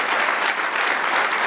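Church congregation applauding at a Spanish-language service, a steady dense wash of hand claps that fills the whole moment at close range with no speech over it.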